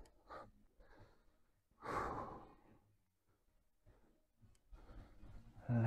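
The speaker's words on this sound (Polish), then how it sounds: "Oddychajcie przy tym głęboko." Deep breaths drawn in and let out during a calf-stretching mobility routine, several soft sighing inhales and exhales close by with quiet pauses between, no talking.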